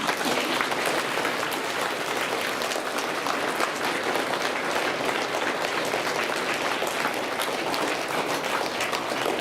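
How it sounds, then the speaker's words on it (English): Applause from the audience at a school Veterans Day program, a dense, even wash of clapping from many people that holds steady throughout without talk. "Let's give one more round of applause for our visitors."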